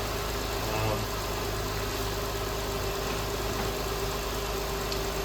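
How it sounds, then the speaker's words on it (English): 2008 Acura TL Type S engine idling steadily just after starting, a constant even hum close by without revving or talk. "So it cranks up just fine."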